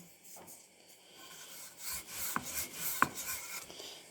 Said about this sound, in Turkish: Evet hamurlarımı açmaya başladım bir merdane yardımıyla.